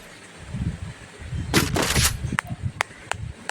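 Gunfire in a shooting video game: a burst of rapid shots followed by several sharp single shots, moderately loud over a low rumbling game background.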